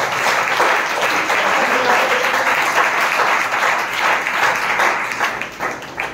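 A church congregation claps to praise God during a Hindi sermon, a steady dense round of many hands clapping that carries on for several seconds before tapering slightly, with faint voices underneath.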